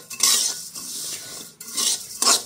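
Whole cumin seeds dry-roasting in a pan, stirred with a utensil: repeated scraping strokes and light rattling bursts, close and fairly loud, with brief pauses between stirs and no talking.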